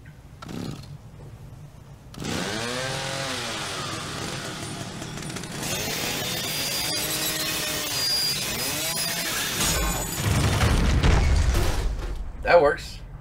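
Chainsaw revving in the horror game The Evil Within, a rising and falling motor whine that swells in repeated arcs under game noise, ending in a low rumbling burst and a brief loud hit.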